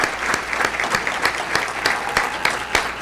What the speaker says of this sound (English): Let's give a round of applause to the Butler High School Brass Ensemble